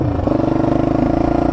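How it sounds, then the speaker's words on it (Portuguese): A Suzuki Hayabusa sport motorcycle idles and revs on a town street at night, its engine a steady, loud, close throbbing drone with a faint rise in pitch, running alone without talk. "Que moto é aquela, velho? Hayabusa."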